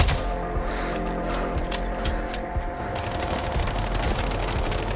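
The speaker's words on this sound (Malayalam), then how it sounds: "കണ്ടിന്യൂസ് ആയിട്ട് വെടിയൊക്കെയാണ്." Rapid, sustained automatic fire rattles on in Sniper Ghost Warrior Contracts, a fast run of closely spaced shots over busy in-game background noise, with no talking.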